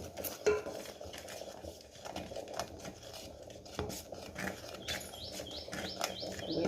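Hill mango pieces are stirred with chili powder in a pan, giving repeated soft metallic scrapes and clinks while birds chirp faintly in the background.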